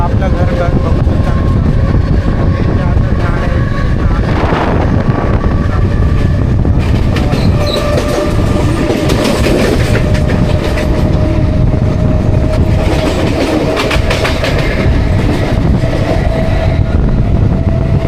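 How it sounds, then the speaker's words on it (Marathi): A Mumbai local train runs with a loud, continuous rumble and rattling wheels on the rails, close and steady, with faint voices now and then under the noise. "तर आता आपली ट्रेन अराविंग होत आहे"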